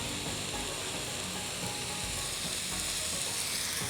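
A vegetarian glass-noodle stir-fry with dark soy sauce sizzles loudly and constantly in a hot pan as a little water is drizzled in, a steady, close frying hiss with faint stirring underneath.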